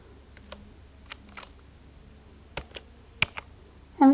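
Sparse computer keyboard keystrokes while typing in MS Word, a few isolated clicks and short bursts spread across a quiet room.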